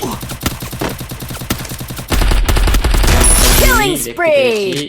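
Rapid bursts of VSS rifle fire in the Free Fire video game, a dense chattering volley that grows louder and fuller midway, ending with swooping synthetic effects.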